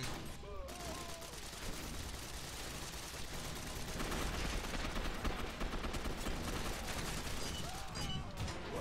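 Rapid gunfire in the Gotham City Impostors multiplayer match, a dense, continuous stream of shots and bursts packed over busy game noise, fairly loud throughout.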